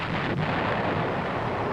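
An M551 Sheridan main gun fires, a dense, loud blast of broadband rumble filling the whole short moment without any voice.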